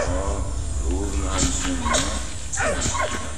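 Dog barking and whimpering in the World War I game Valiant Hearts, a series of short whines and yelps mixed with a few barks, heard close over a low background.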